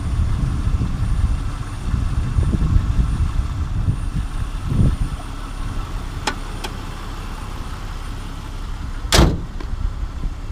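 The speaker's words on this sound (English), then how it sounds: "Fully warmed up, oil pressure is holding great, 30 psi at idle." A warmed-up 2001 Jeep Cherokee XJ engine idles with a steady low rumble throughout, close and even, with a couple of brief sharp clicks and a short knock near the end.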